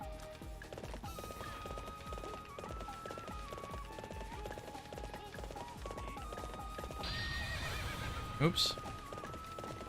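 Horse neighing with steady clip-clop hoofbeats in a video game, a continuous rhythmic trot under game music, with a person speaking briefly near the end.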